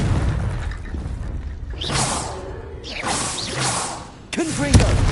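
Confringo fire-blast spell cast in Hogwarts Legacy, a run of whooshing bursts and booming blasts over rumbling game ambience, ending with a sharp pop and a faint tonal chime.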